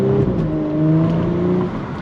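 Audi S4 B9 accelerating hard in sport mode, engine note rising steadily and loud from inside the cabin, with a gear change felt partway through the pull.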